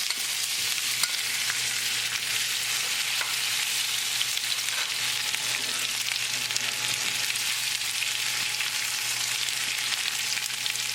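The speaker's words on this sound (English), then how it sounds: "As the butter started to melt, we're going to add the potatoes." Potatoes fry in melted butter in a skillet, giving a steady, close hiss of sizzling that runs unbroken throughout, with a few faint scrapes and ticks over it.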